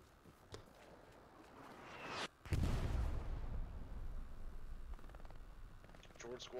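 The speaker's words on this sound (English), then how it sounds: "Shots coming hard." A burst of gunfire and explosions from a battle in the World War II shooter Hell Let Loose rolls in loud and close, then trails into a rumbling barrage with scattered distant shots.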